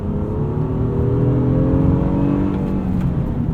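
Naturally aspirated V6 of a 2023 Honda Pilot SUV accelerating on the road, heard from inside as a loud, continuous engine drone whose pitch climbs steadily through the gear.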